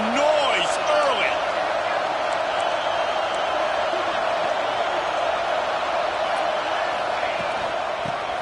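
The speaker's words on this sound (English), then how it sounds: "This crowd bringing the energy and noise early." A college football stadium crowd roars steadily, a broad, loud and sustained wash of cheering and noise with a few whistles and whoops near the start, and a commentator talks over it.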